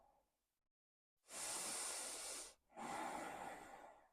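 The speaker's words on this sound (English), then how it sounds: "Breathing here, lovely." Two long, deep breaths during a yoga flow, a loud steady airy hiss each lasting over a second with a short pause between, close and alone.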